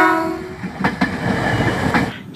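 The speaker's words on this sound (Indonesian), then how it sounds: "ada mainan nih, mainan kereta api KRL" A toy electric commuter train's horn sounds briefly at the start, followed by rhythmic clicking wheels and rattles running close by.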